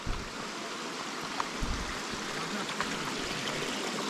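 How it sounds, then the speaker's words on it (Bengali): A rocky forest stream near Thankowain waterfall in Alikadam flows with a continuous, soft hiss, with a few faint clicks scattered through it. "আমরা ওই ঝিরিটার কাছে যাচ্ছি"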